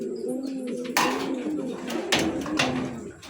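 Pigeons coo in low, repeated murmuring calls, joined by a few sharp wing-flap or scuffling bursts, close by in a loft or coop.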